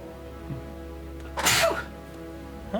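A single sharp sneeze from a person during a podcast recording, close and loud, standing out briefly against a quiet room hum.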